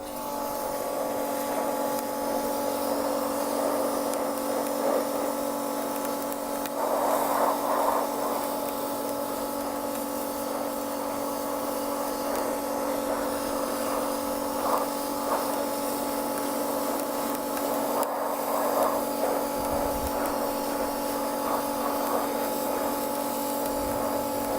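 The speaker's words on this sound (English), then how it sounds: "it's going to get noisy, obviously, because I'm going to be using a pressure washer." Pressure washer aqua blasting a motorcycle centre stand, a loud continuous droning spray with steady pump hum held for the whole stretch, close and unbroken.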